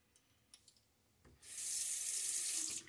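Running tap water rinsing a Karve CB brass safety razor at a bathroom sink: after a few soft clicks and taps, the faucet opens into a steady, close rushing splash that lasts about a second and a half, then stops.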